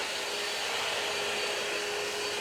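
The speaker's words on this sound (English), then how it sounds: "So if I do this more difficult area, you can see how much better the Vac Mop works." A Shark Vac Mop vacuum running across the floor, a steady close whine and rush of suction that holds evenly throughout without talk.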